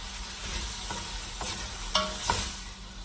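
Hotdog pieces fry in a pan for Filipino-style spaghetti, a steady close sizzle with a few sharp scrapes and clinks of a spoon stirring them, no voices.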